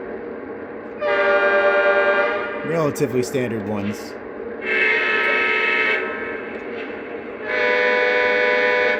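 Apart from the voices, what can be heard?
ES44 locomotive horn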